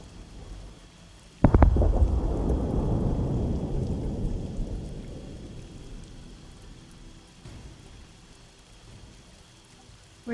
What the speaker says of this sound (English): you hear again another crackle of thunder